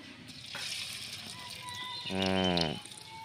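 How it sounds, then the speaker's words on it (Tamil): Masala-coated okra for Vendakai 65 fries in hot oil, a soft steady sizzle close by, with a brief louder tonal burst partway through and faint voices in the background. "இப்போ நம்ம மசாலாவில் தடவுன வெண்டைக்காய் எடுத்து உள்ளே போட்டுடலாம்"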